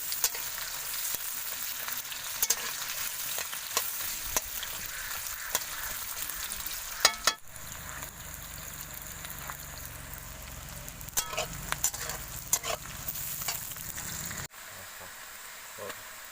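Onion frying in oil for an Odia fish curry: a continuous bright crackling sizzle with occasional stirring clicks. The sound drops in level at a couple of abrupt cuts.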